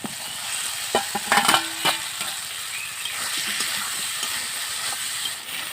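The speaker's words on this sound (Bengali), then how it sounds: "এবার ভেজেটা কালবো আর চিংড়ি দিয়ে দিচ্ছি" Prawns fry with spices in a pan for a Bengali prawn curry, making a continuous close sizzle and hiss, with a brief cluster of clinks and stirring clatter near the start.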